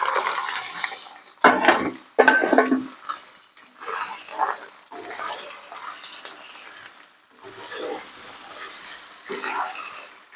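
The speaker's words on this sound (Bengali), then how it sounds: "ম্যারিনেট করা মাংসটা এবার আমি দিয়ে দেবো এর সঙ্গে।" Marinated chicken is tipped into a pan of fried onions and ginger-garlic paste, making loud bursts of clattering and scraping that come and go, with a rustling sizzle between them.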